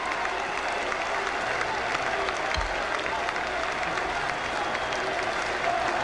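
Steady applause and crowd noise fill a large hall at the 1988 Democratic National Convention as the delegates approve a nomination by acclamation. The clapping is distant and moderately quiet, a continuous wash of many hands with no clear speech.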